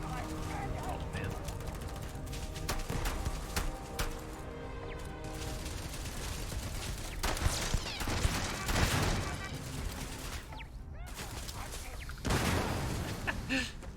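Pistols fire repeatedly in the space game Starfield, with bursts of shots and impacts that come in rough clusters over a noisy battle bed, with voices talking at times.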